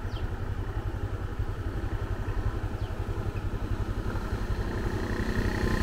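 A motorbike rides a muddy countryside road in rural Cambodia, its engine a steady, close, continuous rumble with a fast pulsing beat and light rattling clatter throughout.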